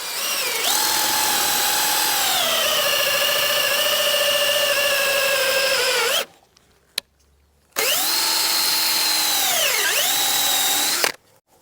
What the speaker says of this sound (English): So I'm just going to drill a hole in the centre.